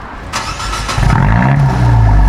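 A loud car engine revs hard close by, its roar rising and building steadily over a couple of seconds with no talking.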